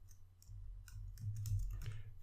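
Keys clatter on a computer keyboard as a Linux terminal command is entered, a short burst of close, light clicks in an irregular rhythm with no voices.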